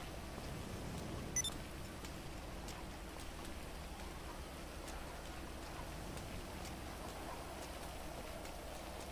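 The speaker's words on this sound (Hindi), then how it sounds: "ओके बारिश हो रही है गाइस" Rain falls in the video game GTA Online as a steady, soft hiss with faint patters of drops, even and continuous throughout, with no voices.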